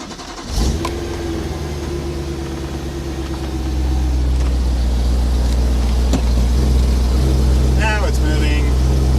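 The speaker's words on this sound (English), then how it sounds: "Let me start the car." A BMW E92 M3 engine cranks and catches, then settles into a loud, steady idle that builds slightly and keeps running close by.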